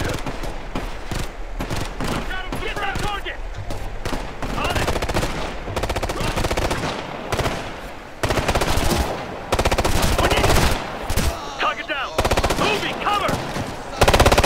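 Dense, sustained gunfire in the Ghost Recon Future Soldier mission Shattered Mountain, with machine-gun bursts and shotgun blasts fired at close range through nearly the whole stretch, loud and continuous with only short gaps.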